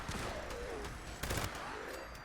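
Rapid sustained gunfire from a Gorse minigun in Fallout 76, a dense continuous stream of shots near and steady, with a brief louder burst in the middle.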